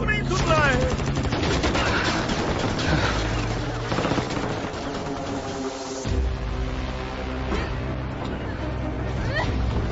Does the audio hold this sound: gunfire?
yes